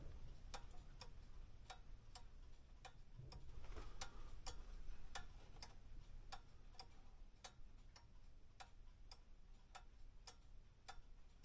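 An antique 1930s Fasco wall clock with its pendulum runs with an even tick, sharp clicks falling at a steady rhythm over a faint background hum and heard close by, alone.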